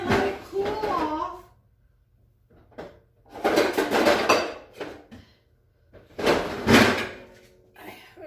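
A lid is set onto a pot in a home kitchen during sweet plantain lasagna prep, giving a couple of sharp metallic clanks and knocks, close and fairly loud, between stretches of a person talking.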